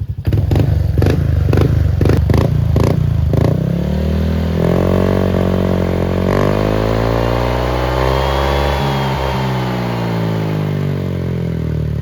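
A motorcycle fitted with a 4ROAD aftermarket exhaust pipe revs at low RPM, opening with several sharp throttle blips before settling into a steady, deep, close-up engine drone that rises and falls gently, with no talk over it.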